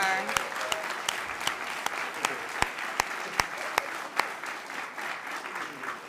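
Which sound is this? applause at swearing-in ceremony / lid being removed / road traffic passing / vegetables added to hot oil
applause at swearing-in ceremony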